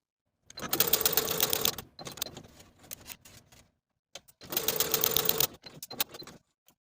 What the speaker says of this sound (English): Using the longest stitch on your machine, a 1/2 inch seam allowance, and remembering to leave thread tails when you start your stitching, stitch from one dot to the other